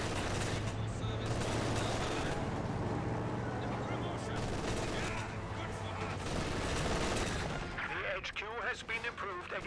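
German MG42 machine gun and artillery fire in the Company of Heroes 2 real-time strategy game, a dense continuous rumble of bursts and blasts throughout, loud and busy, with someone talking over the battle.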